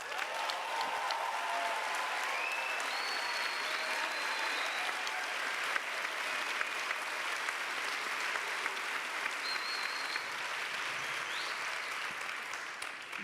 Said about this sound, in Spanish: estos aplausos ya ahí levantan la emocionalidad y el pensamiento